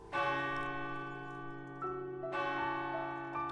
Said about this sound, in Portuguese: Ao meio-dia, o sino da igreja toca.